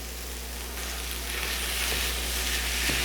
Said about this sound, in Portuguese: vou fritar bem essa carne até que ela fique bem soltinha